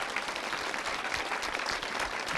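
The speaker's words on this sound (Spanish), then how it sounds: "un aplauso para él" Studio audience applause for Jorge, a graffiti street artist welcomed as a guest on a local talk show, a steady dense wash of clapping at moderate level with no voices over it.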